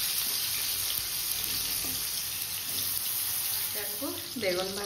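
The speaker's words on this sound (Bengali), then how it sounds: "দেখো বেগুন ভাজা হচ্ছে" Eggplant slices frying in a pan in a home kitchen, giving a steady broadband sizzle throughout, with a brief voice and some clinking near the end.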